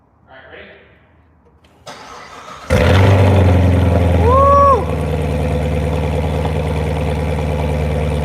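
A Corvette C7 Z06 engine cold-starts, cranking and firing up with a sudden loud roar through the stock exhaust, flares briefly, then settles into a steady, rumbling idle close by.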